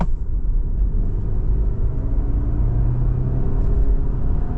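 A Subaru Forester with the 2.5 petrol engine and CVT accelerates at full power, giving a loud, steady low engine drone and road rumble heard from inside the cabin without any letup.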